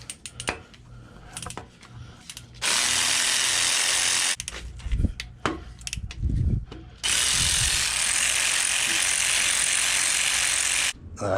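Ratchet wrench and tools working on the 8 mm rear main seal bolts of a 5.7 Hemi V8 from a Dodge Charger R/T teardown, with two long steady loud whirring runs separated by a stretch of scattered clicks and knocks, no speech.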